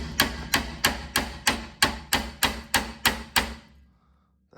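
Ten sharp metallic hammer blows on a rusted e-brake part of a 3rd gen Toyota 4Runner, struck in a steady, evenly spaced rhythm at close range, then the hits stop and a moment of near silence follows.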